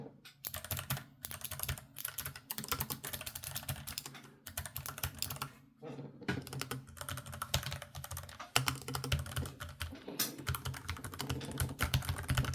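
Typing on an ROG Falchion RX low-profile keyboard with red linear and blue clicky switches, close and crisp, with rapid bursts of keystrokes separated by short pauses.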